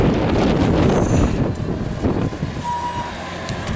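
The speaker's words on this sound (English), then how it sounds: "The wind's really picked up." Strong wind blows outdoors as a loud, steady roar that buffets the microphone in rumbling gusts throughout, with no voices.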